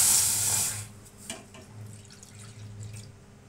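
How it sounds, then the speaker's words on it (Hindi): Half a litre of milk poured into a kadhai, a short splashing liquid pour up close at the start that fades into quiet kitchen room noise. "अब एक कढ़ाई में 1/2 लीटर दूध ले लें।"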